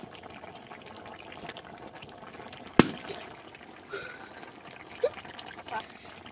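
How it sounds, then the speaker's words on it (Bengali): Curry broth bubbles softly in a pot, a faint, close, continuous burble and simmer, broken by a sharp clack partway through and a few small splashes and clinks after it. "এদিকে ঝোল ফুটে গেছে।"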